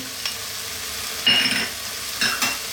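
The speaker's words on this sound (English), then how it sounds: "Let's just stir this in, throw it around in there." Chow mein noodles with soy and oyster sauce are stirred and tossed in a hot pan, a steady sizzle broken by a couple of louder scraping, clattering bursts as the noodles are turned.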